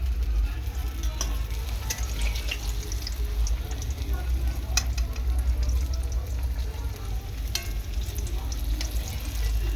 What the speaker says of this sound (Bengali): একদম ছাকা থেকে ভাজছি